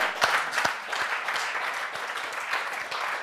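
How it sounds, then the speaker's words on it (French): A church congregation applauding during a French-language worship service, a brisk burst of many hands clapping with a few sharper, louder claps standing out near the start. "Donnez acclamation à Dieu."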